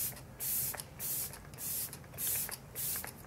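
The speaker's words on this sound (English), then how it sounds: "use my Glam Glow Glow Setter Makeup Setting Spray and just kind of drench my face in this" Four short bursts of fine makeup setting spray, each lasting about half a second with brief pauses between, close and clear.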